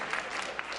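Brief burst of audience applause at a White House dinner, a steady, moderately loud patter of many hands clapping in a large room.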